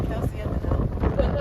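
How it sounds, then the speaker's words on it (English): Strong wind buffets the microphone while sailing across Portage Lake on a very windy day, a steady low roar of gusts and water noise filling the short moment with no clear talk. "it was a very windy day and a fun sail across Portage Lake"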